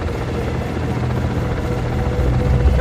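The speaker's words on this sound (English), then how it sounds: "The chopper will do a circle sweep on the shadows." A helicopter in the Manhunt 2 video game drones with steady, loud rotor noise throughout, a constant low thrum with no talk over it.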